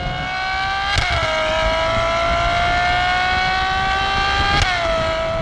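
Ferrari 812 Superfast with its 6.5 litre engine, loud and close, holding a high sustained tone at speed, with two sharp gear shifts that briefly drop the pitch before it climbs again.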